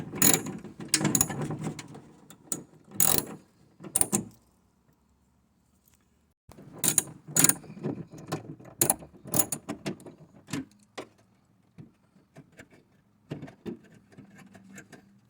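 Ratcheting on a nut inside a BMW E82, with the carpet pulled back: bursts of quick ratchet clicks in short runs, a pause, then more clicking runs, close and fairly clear with no talk.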